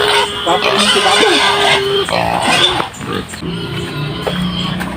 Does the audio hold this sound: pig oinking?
yes